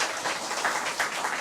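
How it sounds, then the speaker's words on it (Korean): Audience applause for a pianist accompanying a violinist at a church charity violin concert: a steady, even patter of clapping from a crowd, moderately loud and unbroken throughout. "우리 피아니스트 박수 한번 부탁합니다"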